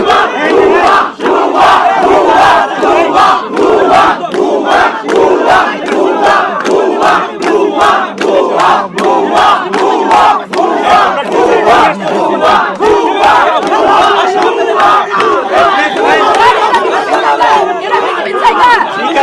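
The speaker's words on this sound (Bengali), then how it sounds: "ভুয়া ভুয়া স্লোগান দিচ্ছে" Large crowd of students on a campus chanting a protest slogan in loud, rhythmic unison, voices repeating the same two-word call over and over with constant crowd noise underneath.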